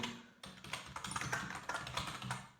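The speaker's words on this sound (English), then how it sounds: "So I'm going to type in" Keys clatter on a computer keyboard in quick, uneven bursts of soft taps, faint and close, with no voices heard.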